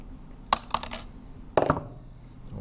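Wire cutters snipping a piece of bare copper neutral wire during a light switch installation, two sharp metallic clicks with small follow-up taps, close and fairly quiet.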